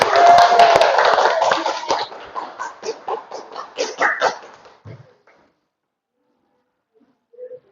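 Audience applause breaks out, dense clapping at first that thins into scattered claps and fades to silence after about five seconds.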